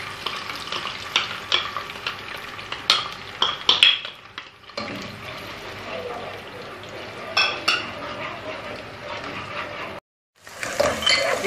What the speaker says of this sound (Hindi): ओनियन को फ्राई करेंगे।